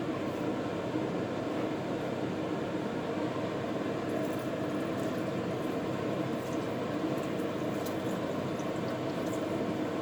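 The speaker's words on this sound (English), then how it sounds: "So I will add some water." Water is poured into a pan of simmering keema masala, giving a continuous rushing, sizzling hiss that holds steady for the whole stretch, close and fairly loud, with no talking.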